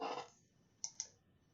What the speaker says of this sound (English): We're going to open it by clicking here.